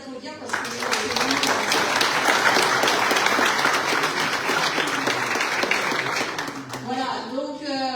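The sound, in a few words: audience applause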